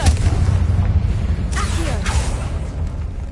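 A Confringo blasting spell goes off inside a tomb in Hogwarts Legacy, a low rumbling burst with a couple of brief whooshing flares layered over a dull, steady game backdrop.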